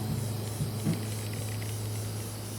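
Spray paint hissing from a can onto a T-shirt, a steady continuous spray lasting a few seconds over a low constant hum, close and moderate in level.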